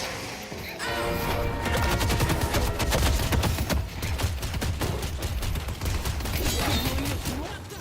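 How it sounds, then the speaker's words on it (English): A protoplasm gun in a video game fires as a loud, steady stream of rapid bursts that runs almost without pause for several seconds. "You gotta shoot that. Come on. Firing protoplasm."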